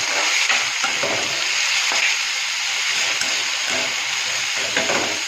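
Onions lightly frying in a pan in a village kitchen, giving a steady, close sizzle with crackling and occasional stirring scrapes throughout, with no talking.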